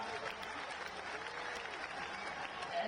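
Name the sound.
crowd applause at padyatra gathering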